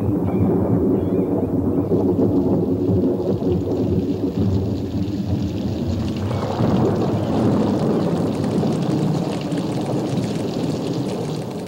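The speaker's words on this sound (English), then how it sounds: "apparently can't hear her above the growing storm" A heavy thunderstorm roars continuously, with deep rumbling and a broad wash of rain and wind noise that swells partway through.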